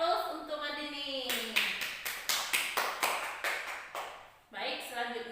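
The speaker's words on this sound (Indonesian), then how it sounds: "Kita beri aplaus untuk Madini." Classroom applause for a student: a burst of clapping about three seconds long that rises loudly after a teacher's speech, then fades out as she resumes talking.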